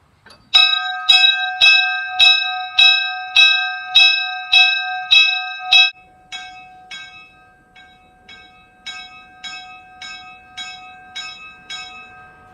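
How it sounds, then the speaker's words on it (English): A steam locomotive's brass bell at the Monticello Railway Museum in Illinois clangs about a dozen times in an even rhythm, loud and ringing at first, then softer, clear strokes that linger between hits. "you can ring the locomotive's bell also."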